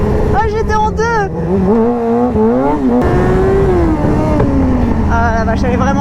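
A motorcycle drifts around a race circuit, its engine revving and wailing in rising and falling sweeps through the bends, loud and close with tyre noise and an excited rider's voice over it.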